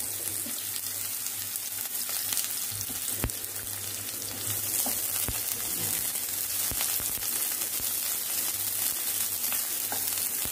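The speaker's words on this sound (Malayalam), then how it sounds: "ഇത് വറുത്ത് പോരാണ് കേട്ടോ" Half an onion, finely sliced, sizzles steadily in hot oil for white biryani, a dense continuous crackle with occasional sharper pops; no one speaks.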